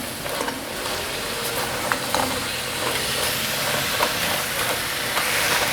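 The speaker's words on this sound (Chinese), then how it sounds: "快速翻炒。" Shredded tofu skin, carrot, jicama and celery stir-fried in a wok, a continuous loud hiss and sizzle with faint clinks of tossing, no talking.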